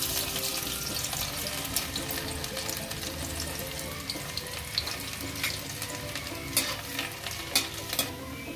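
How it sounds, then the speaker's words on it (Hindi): Garlic dropped into hot oil for vegetable chow mein fries with a steady, dense sizzle, while spoon scrapes and stirring clatter sound throughout, close and continuous, with no voices. "तेल हमारा गर्म हो चुका है। अब इसमें डालेंगे लहसुन"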